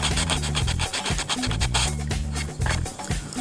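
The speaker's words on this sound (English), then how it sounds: "sanding off the little bulges." Rhythmic rasping strokes of sanding on MDF board as small bulges are worked off, a close, steady back-and-forth scratching alone.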